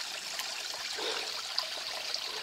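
A river near its source flows in a steady, faint wash of water with a soft trickle, continuous and even throughout with no talk.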